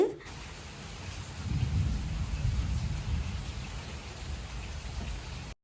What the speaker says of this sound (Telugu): ఈ రోజైతే వర్షం మామూలుగా లేదనమాట నాన్ స్టాప్గా వస్తూనే ఉంది